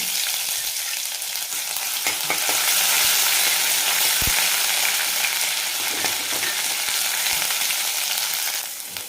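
A tadka of spices crackles and sizzles steadily in hot oil in a pan at close range, with a few pops along the way and no talking.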